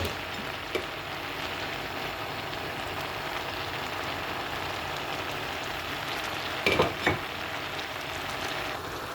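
Chopped onion, ginger and garlic sizzle steadily in a hot pan, a dense continuous crackle, with a couple of brief louder spatters near the end.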